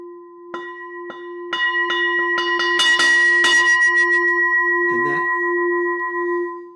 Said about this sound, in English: I'm going to try to do it on my bell, but not too loud